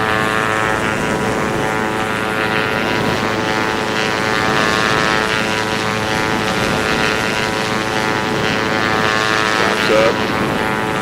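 An Aerobask DA62 twin-propeller plane in the X-Plane 11 flight simulator climbs after takeoff, its engines making a loud, continuous droning buzz that stays steady throughout.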